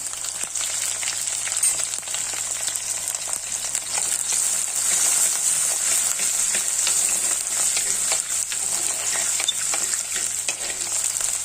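Curry leaves, ginger and garlic crackle in hot oil with popping mustard seeds, a loud, steady sizzle with scattered pops running throughout, close up and without voices.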